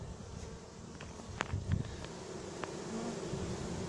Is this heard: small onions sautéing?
no